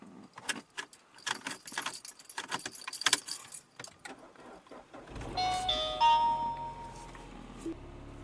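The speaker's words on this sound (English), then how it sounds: "Lastly, we'll start the car to make sure there's no codes." Keys jangle and rattle for several seconds before a Mini Cooper S R56 engine cranks and catches into a steady low idle, with electronic chimes ringing briefly over it.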